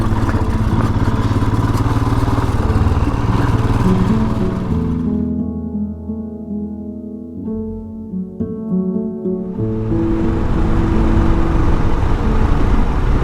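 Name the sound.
motorcycle being ridden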